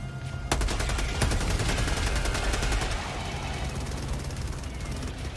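Rapid automatic gunfire from the Helldivers 2 shooter game, a loud sustained burst of fast shots in a steady rhythm that fills the clip, with heavy low rumble underneath and no talking.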